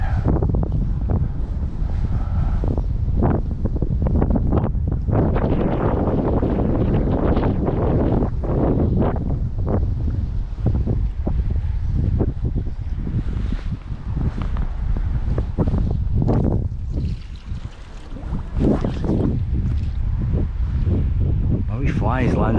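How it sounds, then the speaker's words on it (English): Strong wind buffets the microphone beside a river at night during salmon fishing, a loud, continuous roar with gusty surges and rustling, and a voice now and then under the noise. "The wind is almost blowing us over at one point."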